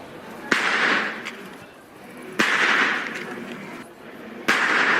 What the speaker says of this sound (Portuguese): Os estudantes levaram bombinhas de fogo de artifícios,